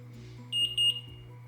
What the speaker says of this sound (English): it will beep when it gets to 85 units